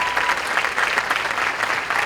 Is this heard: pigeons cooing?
no